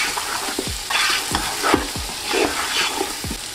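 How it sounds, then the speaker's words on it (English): Lamb pilau stirred in a hot sizzling pan, a spoon scraping in regular strokes about every half second over a constant frying hiss, close and clear. "Make sure to keep mixing so nothing burns or sticks to the pan."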